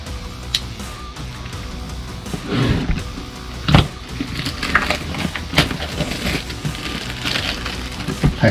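Packaging of Kincrome Lok-On impact sockets being torn and pulled open, crackling plastic and cardboard with scattered sharp rips and snaps, close and fairly loud, no speech.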